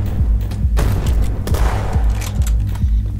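Gunfire and a grenade blast in a video game: repeated heavy thumps and bursts of shots in a dense, loud, continuous battle din.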